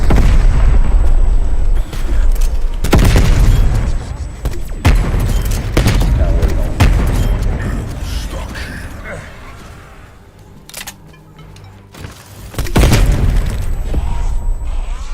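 Napalm burst explosions in Call of Duty Zombies: several loud booming blasts hit in bursts, with rumbling tails and clattering game noise between them, and a voice talks over parts of the chaos.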